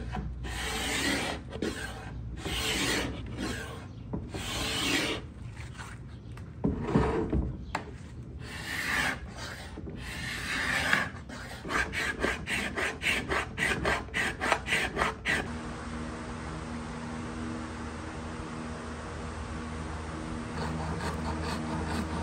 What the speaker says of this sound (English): use my carbide scraper to get off as much as I can